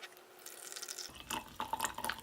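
Water poured into a vintage Ainsley teacup over loose Bergamot Kisses tea with a rosebud, starting as a soft trickle and swelling into louder close splashes and drips.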